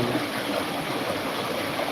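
Cold natural river stream in the hills, a continuous broadband rush of flowing water, steady and close with no voices.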